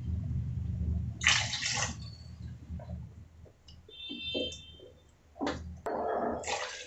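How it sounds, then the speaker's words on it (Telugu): Water is poured into a pot of tamarind-based drumstick curry, with two or three splashy bursts of pouring alongside low rumbling and faint clinks, all close and moderately loud with no voices. "ఇంకొన్ని వాటర్ పోద్దామండి, మునక్కాయ ఉడకాలి కదా."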